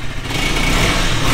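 A KTM RC 390 motorcycle with its stock exhaust revs up close by, giving a loud, steady engine roar that fills the whole short stretch without pause.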